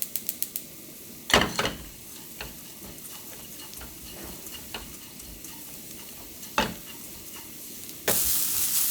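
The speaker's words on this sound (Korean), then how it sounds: "다져놓은 고추하고 멸치에 식용유를 2스푼만 넣고요. 얘를 달달달달 볶아줄 거예요." Chopped chili peppers and anchovies stir-fry in two spoonfuls of cooking oil, giving a steady low sizzle broken by sharp clacks and scrapes of a utensil against the pan, close up and without talking.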